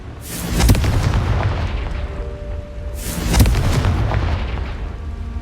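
Two loud Confringo fire-spell blasts in Hogwarts Legacy, about three seconds apart, each a sharp booming crack that fades into a long rumbling tail.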